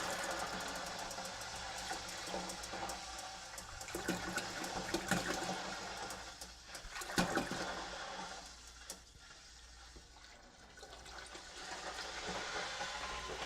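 Water is poured from a gallon bottle into a homebrew boil pot, a long splashing gurgle that rises and dips in loudness with some low mechanical hum underneath.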